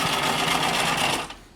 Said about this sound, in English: it was at this point that my sewing machine decided to have a serious issue with the tension